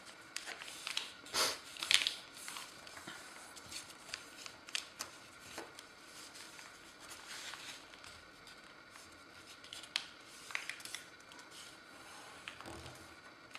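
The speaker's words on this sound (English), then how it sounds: "we will fold along these lines like this" Sheets of paper being creased and folded into a paper airplane, with soft crinkles, rubs and occasional sharper snaps scattered irregularly at close range, quiet throughout and without speech.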